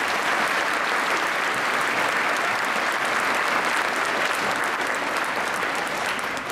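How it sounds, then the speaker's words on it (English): Applause from a graduation audience at an 8th grade ceremony fills the hall, a dense, steady wash of many hands clapping at even loudness throughout, with no voices standing out. "Give yourself a round of applause,"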